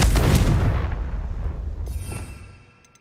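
A Confringo spell explodes in a Hogwarts video game with a loud, deep boom that rumbles and then slowly fades over a few seconds, with no voices heard.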